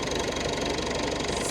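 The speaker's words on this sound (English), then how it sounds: "This is the first time the tractor's been out in" A tractor engine runs at a steady idle on a farm with wet ground, its knocking mid-pitched chug continuous and fairly close, with no voices over it.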